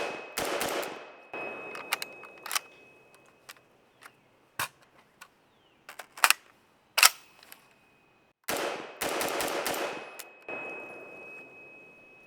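A Century AP53 (HK53) rifle fires from 25- and 40-round magazines: sharp bursts of rapid shots alternate with single cracks and metallic clanks, loud and close, with no speech.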